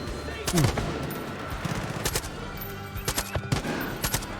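Gunfire in the shooter game Far Cry 5: scattered machine-gun bursts and single shots, moderately loud with sharp cracks and a rattling run of rounds, over background game ambience.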